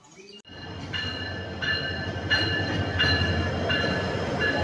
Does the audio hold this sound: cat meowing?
no